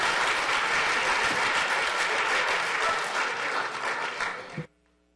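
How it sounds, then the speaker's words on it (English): Steady applause fills a city council meeting in Ottawa, loud and continuous for several seconds before cutting off abruptly. "I think they deserve a big round of applause."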